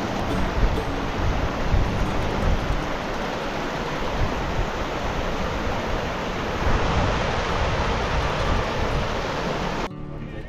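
A mountain river in the Rolwaling Valley of Dolakha, Nepal, rushes in a steady, dense roar that stays loud and unbroken throughout, with no voices.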